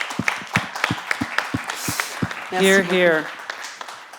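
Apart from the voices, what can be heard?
applause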